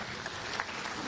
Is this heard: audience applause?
yes